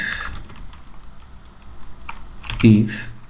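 Computer keyboard typing while entering an Excel IF formula, a light run of key taps close by with a heavier thump of keystrokes near the end.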